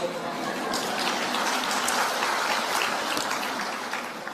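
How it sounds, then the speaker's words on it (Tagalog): Church audience applause, a dense, even patter of many hands clapping throughout, moderately quiet and steady with no break. "Dahil sa palakpak nyo"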